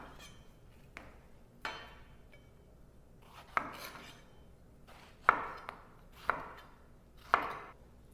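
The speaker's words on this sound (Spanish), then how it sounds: "voy a cortar cubitos con las fresas" A knife cutting strawberries into small cubes on a board: sparse, crisp chops spaced about a second apart, close but quiet, with faint thin ringing touches and no talking.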